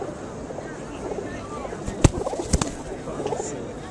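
Pigeons perch on a person's arm outdoors, giving soft low coos and a couple of sharp flutters or taps amid wind and background chatter.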